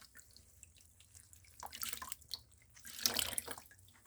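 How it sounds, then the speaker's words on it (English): Excess water squeezed from a cleaning cloth while cleaning a fridge, soft dripping and trickling that swells in two short bursts, quiet and close. "for the cleaning we just need to squeeze out the excess water like this."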